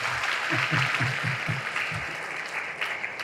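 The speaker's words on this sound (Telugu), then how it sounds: "గట్టిగా చప్పట్లు కొట్టండి ఒకసారి" An audience applauds at a political speech, a dense wash of clapping from a crowd at middle distance that stays even throughout, with a low rhythmic thumping beneath it early on and then easing slightly.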